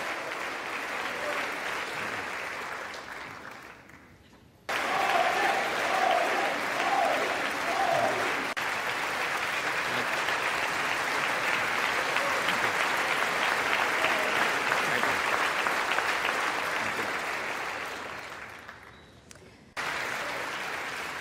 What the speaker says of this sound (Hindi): भारत के प्रधानमंत्री को स्टैंडिंग ओवेशन मिलना, उनके भाषण के लिए तालियों की गड़गड़ाहट का आना